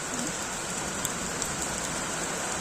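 Heavy rain pours steadily outside a window during a thunderstorm, a dense continuous hiss with scattered louder drips and patters close by, no voices.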